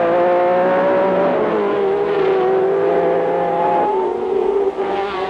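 Formula One race cars roar past over the Flugplatz bump at the Nürburgring, a loud, continuous high-pitched engine wail with shifting pitch as the close-running leaders go by.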